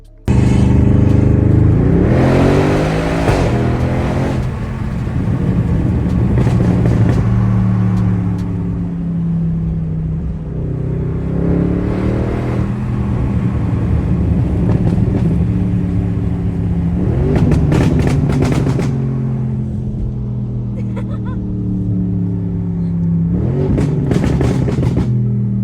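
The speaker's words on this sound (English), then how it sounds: "I am going to drop a clip of driving an RS6 because they are savage" An Audi RS6 accelerates hard through several gears, its engine note climbing and dropping repeatedly with loud revving surges and shifts, close and dominant, with no speech.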